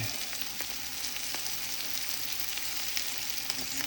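Onions and garlic frying and caramelizing in a pan, a dense, even crackling sizzle that runs continuously at moderate level, with a few soft stirring ticks.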